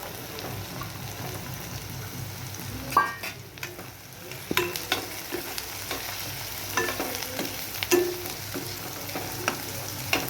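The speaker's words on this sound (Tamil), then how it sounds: "நல்லா வதக்கிக்கலாம். கொஞ்சம் லைட்டாக ப்ரௌனாக வரணும். டக்குனு மீல் மேக்கர் போட்டுக்கலாம்." Soya chunks (meal maker) sautéing with onions in a pan give a steady low sizzle under scattered spoon scrapes and taps against the pan, heard up close without talking.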